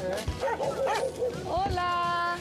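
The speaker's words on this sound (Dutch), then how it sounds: "Oh, volgens mij loopt er een puppy." A puppy yips, whimpers and barks at an animal shelter, a run of high excited yaps and whines close by, with people's voices mixed in.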